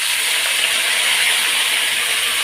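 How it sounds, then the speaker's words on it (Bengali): Spices tipped into a pan of browned potatoes for a fish curry, setting off a loud, steady hiss of sizzling oil that holds evenly throughout with no voices. "এখন মশলাগুলো আমি ঢেলে দেবো"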